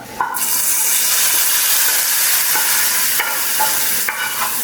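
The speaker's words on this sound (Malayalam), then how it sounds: "ഇതിലേക്ക് നമുക്ക് താളിച്ചത് ചേർത്ത് കൊടുക്കാം" Hot oil tempering for a Kerala irumban puli (bilimbi) and drumstick curry hits the pot with a loud, steady sizzle that holds throughout, broken by a few sharp spits and crackles.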